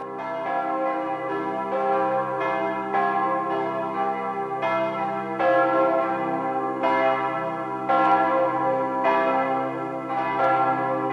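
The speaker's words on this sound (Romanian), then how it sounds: "ajută ca aceste clopote să vestească" Church bells ringing continuously, rich overlapping strikes with a sustained resonant hum, loud and steady throughout with no talking.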